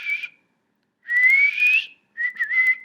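A person whistles three short phrases, each a clear rising tone, with brief silent gaps between them, close and alone.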